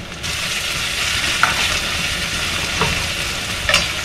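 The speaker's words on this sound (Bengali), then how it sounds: "মোটামুটি হয়ে গেছে ভাজা।" Steady sizzling of onions frying in a pan, with a few light clinks of a utensil stirring, close and fairly loud, no voices.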